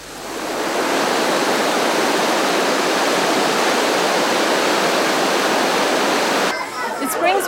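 Hot spring water pours steadily from wartime Japanese-built springs near Mount Kinabalu in Borneo, a loud, continuous splashing rush that fills the scene before cutting off abruptly.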